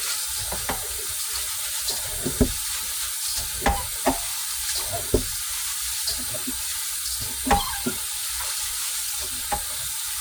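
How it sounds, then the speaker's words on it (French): Rice being washed by hand in a pot of water, with soft sloshing, stirring and scattered splashes and clinks at a fairly close distance; no one speaks. "Comme ça qu'on lave du riz."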